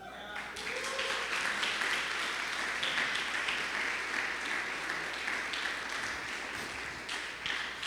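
A church congregation applauds together in a sustained wave of clapping that holds steady for several seconds, filling the hall at moderate volume.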